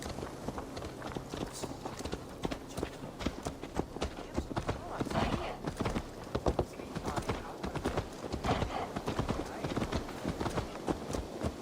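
Horse hooves clop steadily in Assassin's Creed Valhalla, a brisk, even rhythm of close hoofbeats running throughout, with faint background game ambience beneath.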